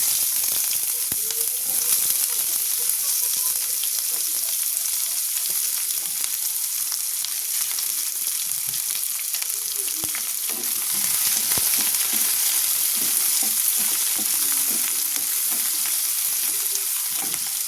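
Chopped onions frying in oil with whole garam masala, a dense, steady hiss of sizzling that runs unbroken and fairly loud, with faint stirring clicks underneath.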